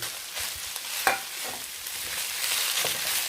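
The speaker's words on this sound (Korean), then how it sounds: "이렇게 당근이 조금 볶아진 다음에 여기다가 미역줄기 넣어요" Seaweed stems and carrots stir-fry in a pan with a steady close sizzle, broken by scraping and clattering stirring strokes, and no voices.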